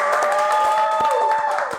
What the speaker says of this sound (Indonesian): Boleh dong diberi tepuk tangan.